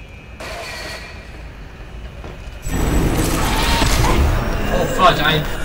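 In the horror video game Bendy and the Dark Revival, a low, murky ambience erupts into a sudden loud, harsh, noisy burst marking the player being caught, which stays intense and rumbling until the end.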